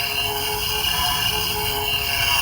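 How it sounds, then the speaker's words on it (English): Toy lightsaber running the Snips sound font on a Xeno V3 Obi-Wan hilt gives off a steady, shimmering ethereal hum, even and unbroken throughout. "I've always loved Snip's lightsaber because of the ethereal hum."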